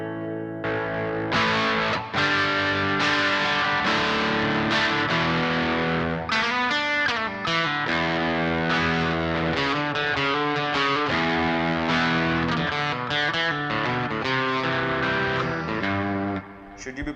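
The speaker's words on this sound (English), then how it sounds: "now the distortion is at 0 and the pedal is going to come on" Electric guitar driven through a Boss DS-1 distortion pedal with the distortion knob at zero, playing sustained crunchy chords and riffs, loud and continuous, with no talking over it.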